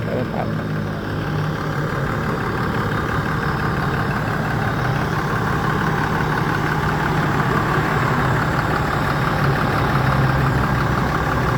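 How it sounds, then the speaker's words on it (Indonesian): ALS 393 executive intercity bus on the Java to Medan route, its engine running at a steady idle with a constant low mechanical hum throughout, close and moderately loud, with no talk over it. "Mesinnya suara yang garing ya."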